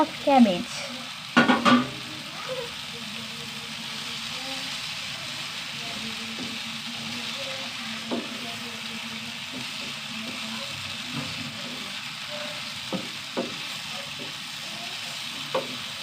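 Cabbage stir-frying with softened tomatoes in a pan, a continuous soft sizzle after a few loud knocks at the start, with sporadic light spoon taps and faint voice fragments.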